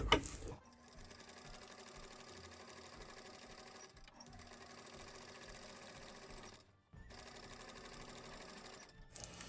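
A sewing machine quilting straight lines runs in steady, fast mechanical stitching. It stops briefly twice, then restarts, close and alone with no talk.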